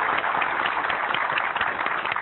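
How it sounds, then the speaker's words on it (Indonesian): Audience clapping together after a motivational talk on dreams and success, a steady dense patter of many hands that stays even and fairly loud for a couple of seconds. "Boleh tepuk tangan sekali lagi untuk."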